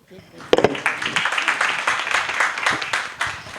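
An audience at a postgraduate diploma induction program breaks into clapping, starting with a few sharp claps and then settling into scattered, moderately loud applause while someone keeps talking over it.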